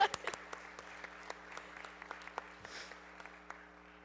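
An audience applauds at a school board of education meeting, with scattered individual claps continuing at a fairly low, even level and some distant voices underneath.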